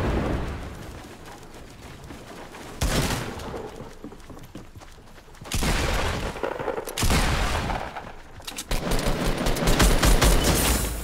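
Minigun fire in Fortnite comes in several dense, loud bursts of rapid shots, each lasting a second or two, with gaps of quieter ambient game noise between them.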